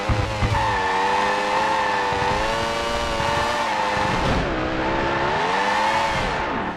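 A racing car engine in a PS1 racing video game revs with a steady, wavering tone, shifting pitch up and down through gear changes. Tire squeal joins in, all loud and continuous with no talk.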